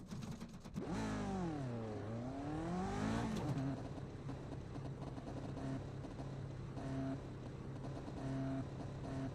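Lotus 49 racing car in iRacing at Imola, engine revving up and down in sweeping pitch swings, then settling into a steady buzzing drone, loud and close without talk.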